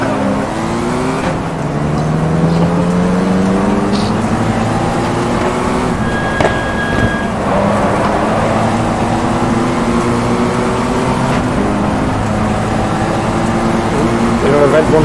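Mini racing cars at the Goodwood Revival circuit, engines revving and droning loudly as the cars pass, with excited commentary talking over the continuous motor noise.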